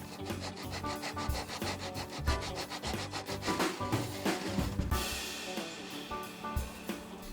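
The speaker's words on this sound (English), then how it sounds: "Option number 1, a miter box and tenon saw." A tenon saw cuts wood held in a miter box for a picture frame, giving steady back-and-forth rasping strokes in a continuous rhythm, close and fairly loud with no talking.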